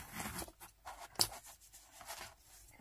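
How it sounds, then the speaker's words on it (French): Paper fold lines being marked while crafting a small bag, a series of soft scraping and pressing strokes close up, with one sharp tap partway through and a louder knock at the end, no talking. "On marque nos plis."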